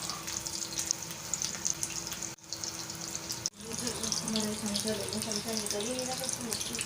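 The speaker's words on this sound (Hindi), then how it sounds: "ऑयल गरम हो चुका है, अब हम इसे फ्राई करेंगे। हम सारे डालते जाएंगे तेल में।" Beef kofta kababs dropped into hot oil, a steady bubbling sizzle throughout, briefly cut out twice, with faint background noise.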